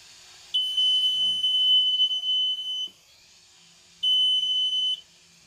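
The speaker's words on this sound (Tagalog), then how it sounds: "Safety stand buzzer." Two electronic buzzer beeps from the safety stand of a carbureted Rusi Classic 250 motorcycle: a steady high tone lasting over two seconds, a pause, then a second shorter sounding, loud and close.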